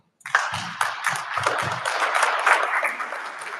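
A round of applause breaks out from the audience at a local supervisor debate, starting abruptly after a short silence and holding as a steady patter of clapping.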